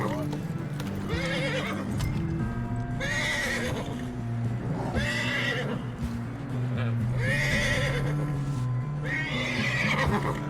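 A horse in Red Dead Redemption 2 whinnies repeatedly in loud, regular neighs over a steady clop of hooves and a dense game soundscape, close and prominent throughout.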